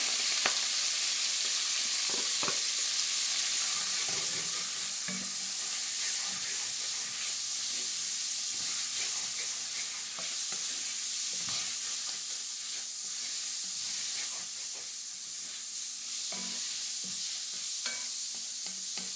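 Chopped onions sizzle and hiss steadily in rendered bacon fat in a stovetop pan, with a spoon scraping and stirring in irregular clanks and knocks over the continuous frying for nearly twenty seconds.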